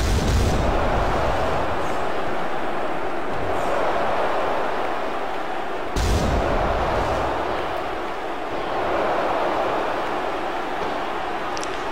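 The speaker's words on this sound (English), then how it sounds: "to attack the Uberbeast with that C4 explosive. And that explosion on the Uber one" A C4 explosion in the wrestling video game Wrestling Mpire roars as a dense, continuous blast, with two sharp bursts at the start and midway and a heavy rumble sustained throughout.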